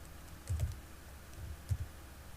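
Typing on a computer keyboard: faint, close key taps in two short clusters against a quiet background, with no one speaking.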